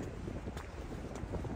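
Strong wind buffets the microphone outdoors in Seoul's Itaewon area, a constant rough roar with no pauses and no talk.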